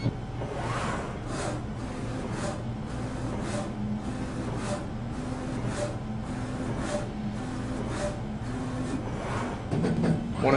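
A 3D rapid-prototyping printer builds a model layer by layer with a repeated rhythmic whirring and stepping motor pattern, moderately loud and mechanical, cycling steadily throughout.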